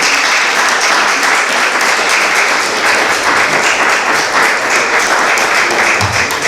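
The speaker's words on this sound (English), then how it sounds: "please give all of these artists that participated in the show a round of applause" A live audience claps in sustained, dense applause for the artists at a community arts show, steady and loud throughout with no voices rising above it.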